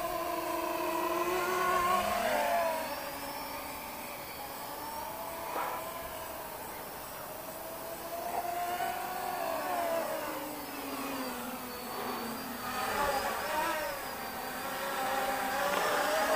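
A HiSky HMX280 or JJRC X1 toy quadcopter drone is flown at full rate, its high whirring rotors rising and falling in pitch steadily throughout.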